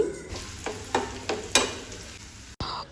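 Ginger, garlic and cashews sizzle in hot oil in a pan while a spoon stirs, scraping in several distinct strokes over a steady crackle, heard up close with no voices.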